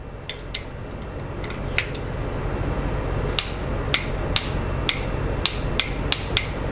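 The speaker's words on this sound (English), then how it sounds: "you'll hear the wrench click." A torque wrench clicks sharply on cylinder head bolts of a Jeep 2.4 engine, a few quick clicks early then a steady run of spaced clicks, close and crisp over faint background hum.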